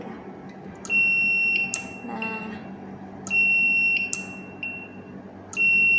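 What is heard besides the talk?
electronic buzzer triggered by magnet on Hall effect sensor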